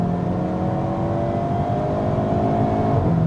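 A 2022 Hyundai Kona N accelerating on an open road, engine note steadily rising in pitch and loudness, heard up close from inside the cabin.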